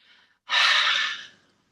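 A single forceful, breathy yoga exhale with tongue out, done in chair yoga, loud and close, following a faint softer breath.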